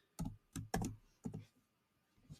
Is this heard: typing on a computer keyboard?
yes